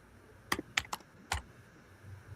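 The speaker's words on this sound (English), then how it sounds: "I hear his ass typing." Several sharp keyboard clicks come in a brief irregular burst, faint and somewhat distant over a low background hum.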